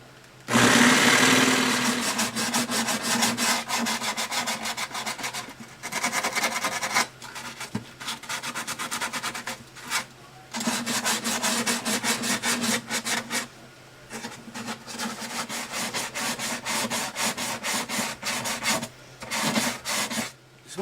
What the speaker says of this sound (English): Obviously I got to go over all this with sandpaper.